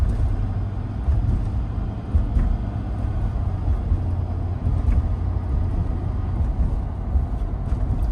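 Cab noise inside a 2022 Ford F350 Tremor driving at 40 mph, a steady low road and engine rumble with tire hum holding at an even level throughout, no talking.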